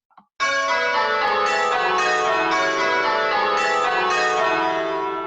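Church bells ringing changes, several bells struck in a steady sequence, two of them lighter and higher than the rest, with rich overlapping resonance, loud and close after a brief faint start.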